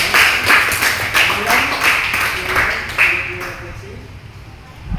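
Classroom of students clapping hands together in a series of rhythmic bursts that fade out after a few seconds, with a voice faintly under the claps.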